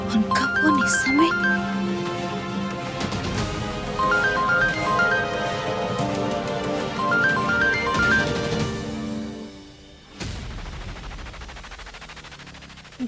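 A melodic phone ringtone repeats three times beneath loud, dramatic music and heavy booming hits, then breaks off into a noisy rush.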